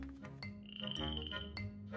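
A cartoon pet frog in a terrarium gives a few croaks, one drawn out, clear and close with no talking.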